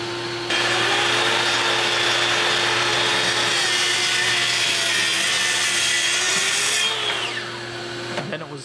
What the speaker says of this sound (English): I'm going to go back to the Craig track saw to make quick work of that